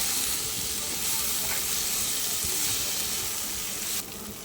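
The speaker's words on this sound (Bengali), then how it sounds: "দিয়ে ভালো করে একটু মশলাটাকে কষিয়ে নেব" Masala of ginger, green chili and radhuni spice frying in a pan for an eggplant and chapila fish curry, giving a loud, continuous hissing sizzle that drops off sharply near the end.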